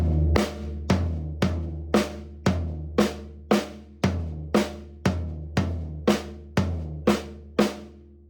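A paradiddle groove on a drum set pairs floor tom and snare in an even, steady pulse of about fourteen booming low hits, each decaying quickly, loud and close with no voices.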